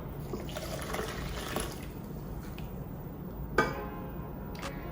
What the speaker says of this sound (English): So I'm going to add in our milk now.